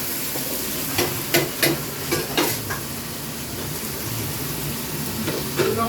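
Potato pieces fry in hot oil in a pan, giving a soft steady sizzle with a few sharp stirring and scraping clicks scattered through it and no talk.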